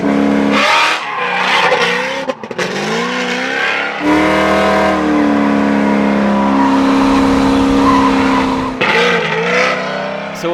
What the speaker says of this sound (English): So it is as loud as it could be with the supercharger blow off.